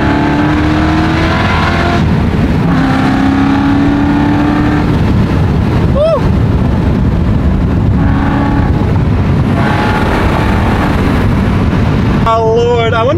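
A BMW E91 M3 engine revs while driving, rising and falling in pitch through several gear pulls, loud and close under steady road and wind noise.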